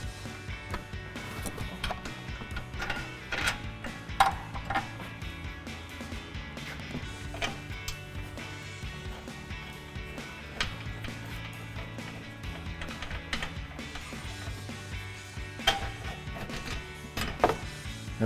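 Mechanics working on a RAM 1500 front upper control arm, pulling bolts and nuts with hand tools: scattered metallic clicks, taps and ratcheting clunks over a low background hum, irregular and close.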